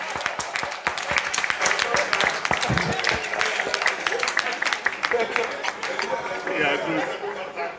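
A crowd at an award dinner applauds with dense, sustained clapping that is loud and close, mixed with murmured chatter and light laughter throughout.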